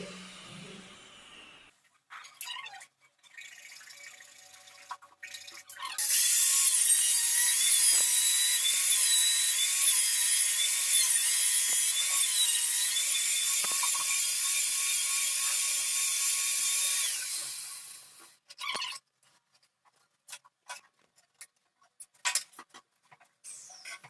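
A piece is cut to size while fitting a tankless wall-hung toilet, producing a loud, steady rasping cut for about twelve seconds, framed by sparse clicks and handling knocks before and after.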